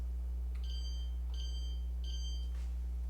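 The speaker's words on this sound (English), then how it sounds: "I'm going to go ahead and set a timer for 8 minutes" A kitchen timer set for pizza baking gives three short, evenly spaced electronic beeps over a steady low hum, with no one talking.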